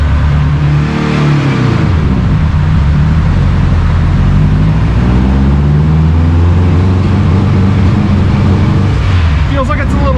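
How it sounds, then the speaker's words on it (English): A Subaru WRX engine rolls on a dyno, a loud close-up mechanical roar that rises and falls as the revs sweep up and down, with a voice speaking briefly near the end. "So we're gonna start by rolling it on the dyno and seeing what it does."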